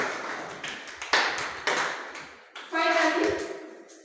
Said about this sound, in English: you can clap for yourself for that